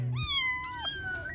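A young kitten gives a loud, close meow, then a second rising cry right after, its high piercing voice clear over faint background noise.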